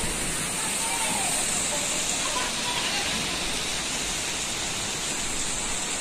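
A heavy rainstorm pours down outdoors near a rice field and home, a dense, steady roar of rain and wind that stays constant and loud throughout.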